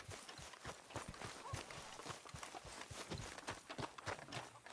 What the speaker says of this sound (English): That's a strong-looking horse.